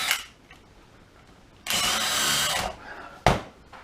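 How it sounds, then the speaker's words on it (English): Power drill driving into a vacuum-formed plastic helmet shield to pin its corners, a short burst of about a second of whirring, then a sharp brief bite near the end, up close in a quiet workshop. "I got to drill that one"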